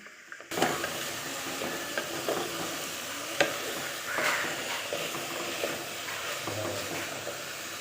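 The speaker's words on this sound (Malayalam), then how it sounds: "അതിലേക്ക് നമ്മൾ വെണ്ടക്ക ഇതുപോലെ കട്ട് ചെയ്ത് ഒന്ന് ഇട്ട് കൊടുത്തിട്ടൊന്ന് നമുക്ക് ഫ്രൈ ചെയ്തെടുക്കാം" Cut okra fries in a clay pot, a steady close sizzle with stirring scrapes and a few sharp clicks from a utensil running through the whole stretch, no voices.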